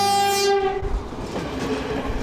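A passenger train departing Colombo Fort in Sri Lanka sounds a loud horn blast, then settles into a steady close rumble of rolling wagons.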